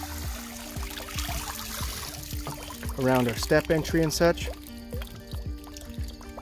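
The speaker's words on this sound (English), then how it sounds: "So I'll pour it more directly in those places" Hydrogen peroxide is poured into a backyard pond to treat algae, a close trickling and splashing pour that runs under steady talking.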